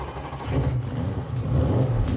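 A Golf-based dragster's engine fires up and settles into a steady, rumbling run, with low-pitched engine roar throughout and a slight surge in the second half.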